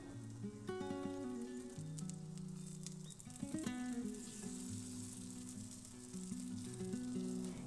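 Zucchini slices frying in a pan give a steady, crackling sizzle with fine popping throughout, heard up close over soft tonal background music.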